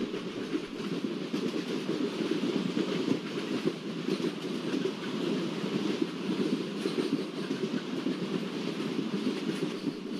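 The Haridwar–Udaipur City Express rolls along behind a WDP4B diesel locomotive on the Mewar route near Chittorgarh junction, giving a loud continuous rumble with a faint rhythmic clatter of the wheels and no talk.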